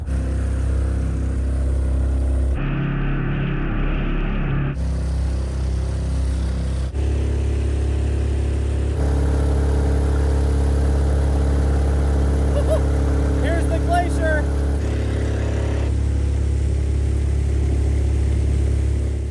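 A Mokai jet-powered kayak's small engine runs steadily and loudly after being restarted in Alaska, with its pitch shifting a few times as the throttle changes, and someone speaking briefly.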